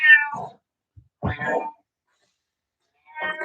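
An old cat gives several loud, close meows demanding food, separated by short pauses, with no talk over them.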